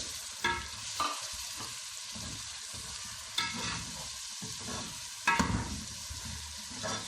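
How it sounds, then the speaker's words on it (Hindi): Chicken fries in a pan for shorba, a soft continuous sizzle broken by several sharp bursts of stirring and spatula scrapes, close and moderately quiet, with no voices. "चिकन हमारा फ्राई हो चुका है"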